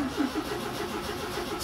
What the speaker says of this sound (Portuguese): Eu tento dar partida e não pega